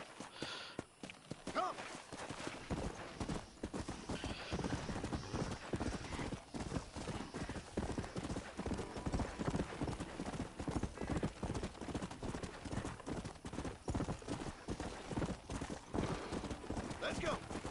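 Horse hooves clip-clopping in the video game Red Dead Redemption, a steady rhythmic trot of close, sharp hoof strikes with an occasional whinny, running continuously under a faint voice.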